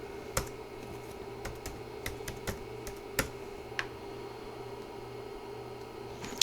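Password keyed in on a computer keyboard, scattered sharp keystroke clicks at an uneven pace over a steady low hum, close and fairly quiet, with no voices.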